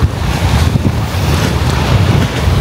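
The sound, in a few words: rough sea waves and wind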